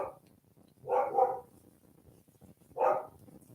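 Rosie, a pet dog in a home craft room, lets out two close, moderately loud barks, the first a doubled woof and the second a single bark after a short pause, with no talking over them.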